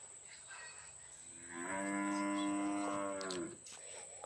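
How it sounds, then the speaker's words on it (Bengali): A village cow gives one long, drawn-out moo lasting about two seconds at moderate distance, rising and then fading over a steady high-pitched background tone. "গরু কি ডাক দে ভাম্বা"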